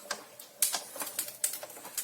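A Big Shot die-cutting machine runs paper through, giving a quiet series of sharp crisp clicks and crunches in an irregular rhythm, close and faint, with no talking.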